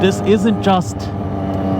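Triumph Daytona 675R triple-cylinder motorcycle engine whining close by, a steady tonal drone running under someone talking over it.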